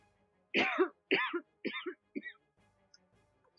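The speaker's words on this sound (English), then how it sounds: "Sorry if you're coughing in your ears." Four separate harsh coughs and throat clearings, close and loud, spaced about half a second apart, then quiet.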